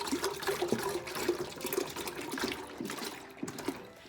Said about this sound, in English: we're going to pour all of the gallon milk into the pot that we have over the stove